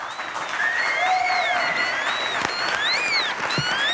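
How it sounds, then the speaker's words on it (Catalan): Studio audience in a Catalan TV talk show breaking into warm, steady applause, a dense wash of clapping lasting a few seconds. "tornem a rebre amb un fort i calorós aplaudiment en Juanjo Montserrat"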